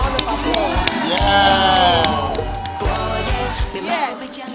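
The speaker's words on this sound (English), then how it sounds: "Let's give them a round of applause." A studio audience at a dating show reunion breaks into loud cheering, whooping and shouting. The crowd noise stays strong and steady throughout, with some clapping mixed in.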